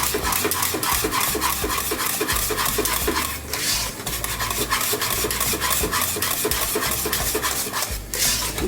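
A spoon scrapes and rasps steadily against a pot while mustard is stirred into macaroni and cheese, a close, continuous rubbing and clinking that runs throughout without talk.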